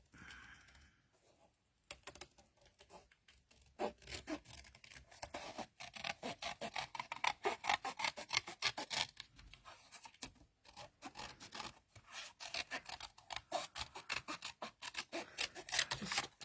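Scissors roughly cutting out a craft piece, a continuous rasping snip and rub that starts after a short quiet gap and carries on steadily, fairly faint and close, with no talk.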